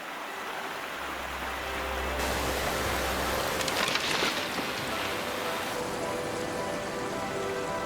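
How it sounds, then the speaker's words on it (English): Heavy rain falls in the desert as a steady hiss of drops on the ground. A deep rumble rises early and then fades, and the wash of rain swells midway and stays loud. "The heavy rains inland bring the largest flash flood in a decade"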